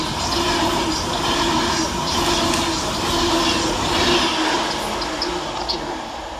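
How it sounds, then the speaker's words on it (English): An Avanti West Coast Class 390 train rushes through a station platform with a sustained loud roar and rumble of wheels on rail that gradually eases, heard close up and without talk. "Pass through the opposite direction for Avanti West Coast is 390-126, working 1H27 from London Euston to Manchester Piccadilly."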